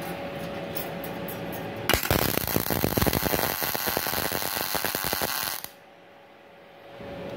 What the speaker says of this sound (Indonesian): saya akan coba untuk mengelas ya di posisi di sini